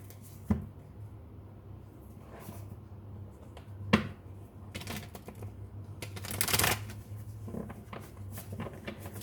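Tarot cards are shuffled by hand nearby, with soft riffling bursts and flicks interspersed with handling sounds, quiet and without speech.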